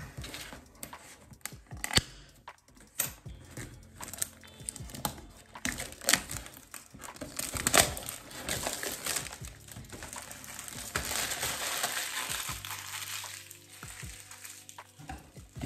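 Cellophane wrapping being crinkled and torn off a cardboard box holding a NoCo Genius 12V battery charger, producing close, irregular crackling and rustling bursts with no talking.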